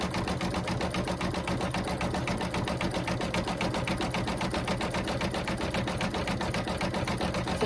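An embroidery machine stitches an outline on a gnome's hat, a steady, fast, evenly pulsing needle chatter running continuously and close, with no voices.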